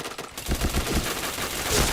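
A shooting video game plays rapid bursts of automatic gunfire, loud and close, with dense repeated shots running through most of the stretch.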